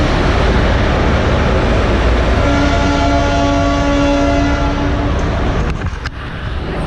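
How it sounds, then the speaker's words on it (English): An Arakonam passenger train pulls in with a long, loud horn blast held for several seconds over the heavy rumble of the approaching train, then the horn stops and clanking sounds follow. "Arakonam passenger, I'll be boarding this train."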